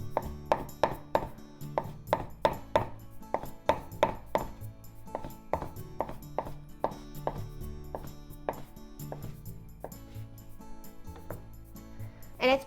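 Knife chopping through fried tofu (aburaage) on a cutting board, a quick run of crisp, evenly spaced taps that slows into steadier single cuts, close and clear with no talk.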